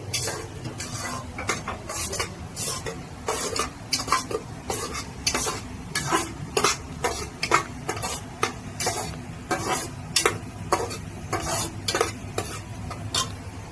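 Raw masala and onions for a mutton dish being stirred in a pan, a spoon scraping in a steady repeated rhythm over a soft sizzle, close and fairly quiet.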